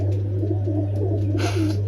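A pigeon coos softly in a few low, rolling notes over a constant electrical hum, ending with a brief airy rustle.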